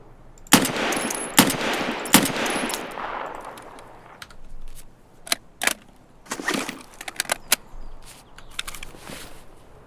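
Gunshots in Escape from Tarkov ring out in loud, sharp cracks, a tight burst near the start followed by scattered single and double shots that grow fainter and more spaced toward the end, with no talk.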